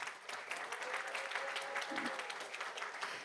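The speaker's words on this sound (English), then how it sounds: "Let's give them all one more round of applause." An audience applauds at a school board meeting, with dense, even clapping filling the room throughout and a faint voice under it.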